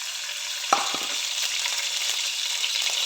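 A spoon of ghee sizzles in a kadai heated over a medium flame, giving a steady close hiss with a brief clatter near the start and no talking.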